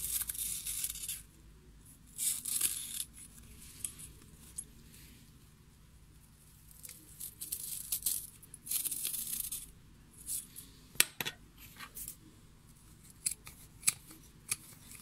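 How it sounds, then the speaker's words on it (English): Scissors snipping through wound yarn while cutting out a ballerina pompom, a close, irregular run of sharp crisp snips with short pauses between bursts, no voices. "So I'm going to cut it out and I'll be back with you shortly."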